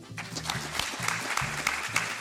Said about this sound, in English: I also want a special round of applause just for Adam